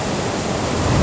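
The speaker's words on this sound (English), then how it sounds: "Roaring seas. All you can hear is this white noise and thuds and rumbles." Sea waves roar against the Sardinian coast as a dense, loud wash of white noise, with a low rumble swelling toward the end.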